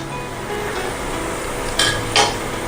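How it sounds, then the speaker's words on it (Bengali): Palm fritters (taler bora) deep-frying in hot oil give a steady broadband sizzle with no talk, broken by two brief brighter clinks as the oil is swirled. "এই সবগুলো ভাজার সময় না এরকম মাঝখানে তেলটাকে একটু এরমভাবে ঘোরাবেন"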